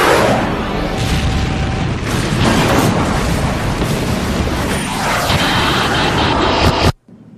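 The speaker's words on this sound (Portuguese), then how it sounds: "houve um baque, um impacto enorme" A loud, sustained rumbling roar and boom from the crash of two colliding Boeing 747 airliners, a dense wall of noise lasting several seconds before cutting off abruptly.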